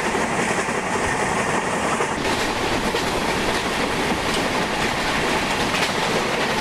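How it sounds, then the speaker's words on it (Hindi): Vivek Superfast Express, the 22504 Dibrugarh–Kanyakumari train, rolling past in Train Simulator with a steady, loud rumble and clickety-clack of wheels on rail throughout, no voices. "अच्छा आगे से गाड़ी आ जाती है 22504 डिब्रूगढ़ से कन्याकुमारी के लिए चलने वाली विवेक सुपरफास्ट एक्सप्रेस।"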